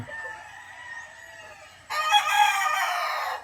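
Gamefowl rooster crowing on a game farm, one long, loud, close crow that rises into a strained, harsh final note, with another bird clucking faintly beneath it.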